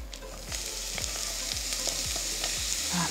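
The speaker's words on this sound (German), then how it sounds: "jetzt werden unsere Pilze scharf angebraten." Mushrooms searing hard in a hot pan for an udon noodle soup, giving a steady close sizzle with a series of regular scraping stirs through the fry and no talking.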